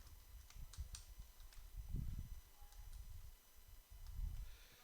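Soft, rapid keystrokes on a computer keyboard tap out in irregular bursts with brief pauses, quiet and close, no voices.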